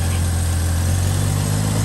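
An old Chevy K10 squarebody pickup with a one-barrel carburetor idles on its own just after starting, a steady, loud, close low rumble with an even pulsing throb and no talk.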